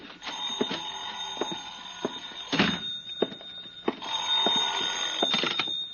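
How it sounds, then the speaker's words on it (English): In an old radio drama, a telephone bell rings in long metallic trills, two bursts separated by a pause, sounding narrow and slightly muffled, with faint knocks and clatter between rings. "I think that's my phone."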